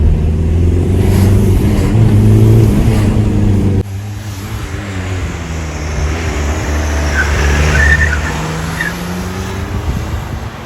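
A VW Golf 3 with a 1.9 TD diesel engine accelerating gently, its loud engine note climbing steadily, then settling into a continuous drone with faint background sounds.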